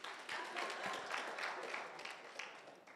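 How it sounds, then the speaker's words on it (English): An audience at the Africa Leadership Summit 2019 applauds a board member's introduction, soft and fairly distant clapping, steady across the whole stretch without talk. "You can applaud."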